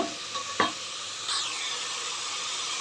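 A curry mixture of tamarind pulp, dal, salt, chilli and sambar powder sizzles in a pan. One sharp scrape of stirring is followed by a steady, close hiss of frying.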